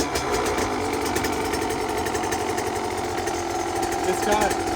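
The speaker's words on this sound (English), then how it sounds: "Look at that idling already, dude." A 2025 KTM SX 85 class dirt bike engine fitted with a 105cc big bore kit idles with a fast, even putter, loud and close, with voices talking over it now and then.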